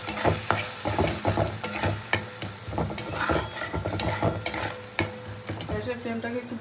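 A spice paste with onion and tomato, salt, sugar and turmeric, is stirred and fried in oil in a pan, giving close, loud sizzling with repeated scraping strokes of a spoon, and no voices.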